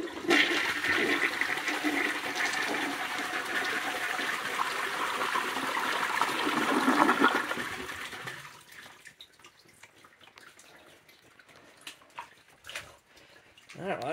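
A 1950s Briggs toilet flushes with a loud rushing gush for several seconds, then fades into quieter trickling and refilling, with a voice speaking briefly near the end.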